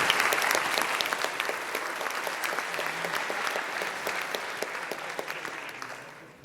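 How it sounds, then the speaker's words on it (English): The crowd at a tech conference, ShipItCon 2024, applauds a speaker. The sustained clapping from many hands is lively at first and then gradually thins and fades out. "Can you please give a huge round of applause for our 5 foot superwoman?"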